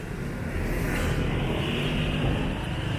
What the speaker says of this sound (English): Wait till the cars pass.